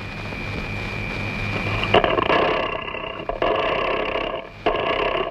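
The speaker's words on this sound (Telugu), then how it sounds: "ఇంజన్ స్టార్ట్ చేయండి" A boat (launch) engine starts with an abrupt rise, then runs as a steady, rough mechanical roar with a couple of brief dips and surges, heard close in a film scene.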